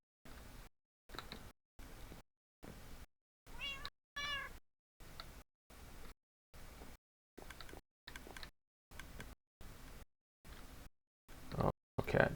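A cat in a video game world meows repeatedly beside storage chests. The audio is chopped into short bursts, with a clearer, drawn-out meow midway and louder noise near the end.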